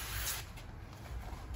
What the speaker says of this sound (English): And we're going to spray that